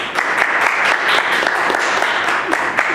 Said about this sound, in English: Background clap.